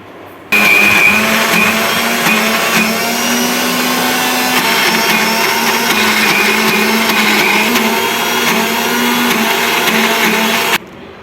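A mixer grinder whirs steadily as it grinds soaked moong dal into batter, a loud, continuous motor drone that starts abruptly and cuts off just before the end.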